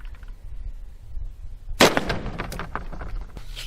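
A 5.56 FMJ rifle round fired into a body armor plate gives one sharp, loud report that bursts out of near silence and then trails off in a rough, reverberant decay.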